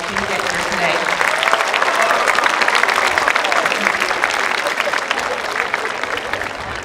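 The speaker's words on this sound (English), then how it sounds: "Graduates, please join me in applauding your parents, family, and loved ones that have helped you get here today." Mt. Carmel High School graduation crowd applauding parents and families, loud sustained clapping from a large audience in a ceremony hall, steady for the whole stretch with a few voices mixed in.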